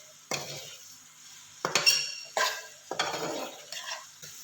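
Egg macaroni tossed with masala in a pan over low flame gets several distinct spoon stirs and scrapes, each a short burst of clatter and faint sizzle separated by near-silence.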